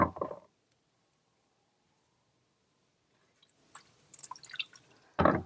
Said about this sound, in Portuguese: Esse restinho aqui, ó, de placa, eu vou espirrar água.